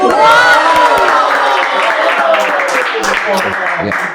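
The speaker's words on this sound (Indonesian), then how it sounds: "Kita tepuk tangan dulu ya." Studio audience applauding and cheering at the start of a quiz show, a dense burst of clapping and crowd noise mixed with a loud voice over it, fading slightly near the end.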